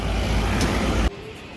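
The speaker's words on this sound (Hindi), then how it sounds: "ये कुछ गाड़ियाँ आ रही हैं यहाँ से," Vehicles passing on a mountain road near Darjeeling, a loud close engine rumble and tyre roar that cuts off abruptly, leaving a quieter background with a faint tone.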